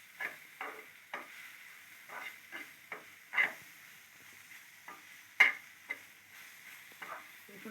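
Curry leaves sizzle in oil with eggplant while vankaya tomato pachadi is cooked, a faint, soft crackle broken by scattered clicks and scrapes of stirring, with no talking.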